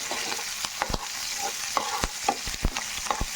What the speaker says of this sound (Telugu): ఇవన్నీ చక్కగా ఫ్రై అవ్వాలండి, బ్రౌన్ కలర్ రావాలి.